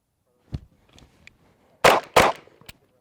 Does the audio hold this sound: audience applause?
no